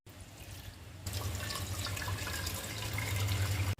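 Water pours steadily into a vessel of jaggery for modak, growing fuller and louder after a soft start, a continuous close splashing stream.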